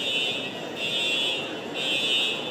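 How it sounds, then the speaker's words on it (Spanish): A steady electronic alarm tone sounds continuously and fairly loud in a shopping mall, with a slight pulsing rise and fall, over a noisy indoor background. "La alarma se activó de inmediato"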